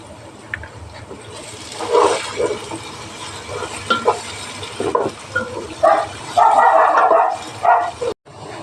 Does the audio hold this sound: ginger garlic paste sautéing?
yes